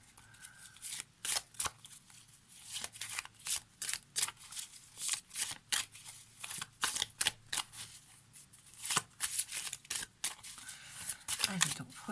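Oracle cards are shuffled in quick bursts of papery riffling and slapping, a rhythmic run of close shuffles with brief pauses, heard alongside a voice.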